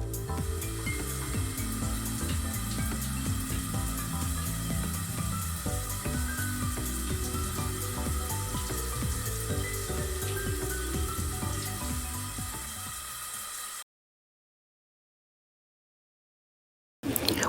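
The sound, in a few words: tomatoes boiling in a pot of water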